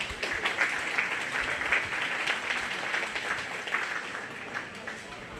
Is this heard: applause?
yes